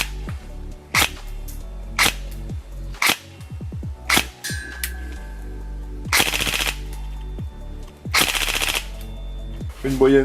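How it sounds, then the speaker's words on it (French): Tokyo Marui MK18 Mod.1 Next Gen Recoil Shock electric airsoft rifle firing outdoors at about 12 BBs per second: several short full-auto bursts of sharp mechanical cracks, close and loud, with a few single shots between and a brief whine. "Test de tir de ma MK18 NGRS."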